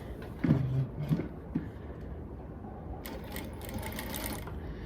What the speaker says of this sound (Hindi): बिल्कुल सेंटर में एक बार हल्का सा टक कर देते हैं ताकि ये सिलाई के अंदर गुम हो जाए